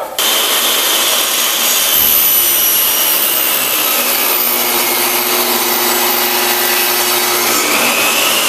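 A table saw cuts a bevel on a raised panel test piece of wood, a loud, steady whine and rushing hiss of the spinning blade biting through the board, sustained with no talk.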